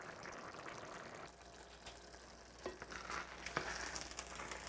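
Fish ragu sauce with tuna cooks down in a pot on the stove, giving a faint, steady sizzle and bubbling with occasional spatters and soft stirring clinks.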